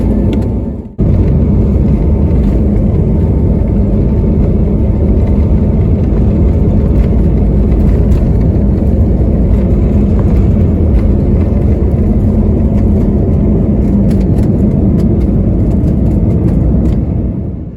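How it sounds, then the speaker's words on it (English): An IndiGo airliner's engines roar through the takeoff roll on runway 28, a loud, steady, broadband rumble and whir heard from inside the cabin that starts abruptly after a brief dip and holds evenly throughout. "We lined up on runway 28 and began our takeoff roll."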